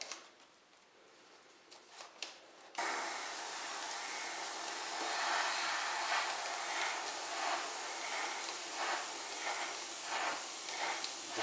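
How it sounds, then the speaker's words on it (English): After a short quiet stretch with faint handling, a paint spray gun blasts thinned paint onto a Dodge 330 in a loud, steady hiss that pulses slightly as the trigger is held, with no talk. "Make sure it's spraying, not spattering and all that."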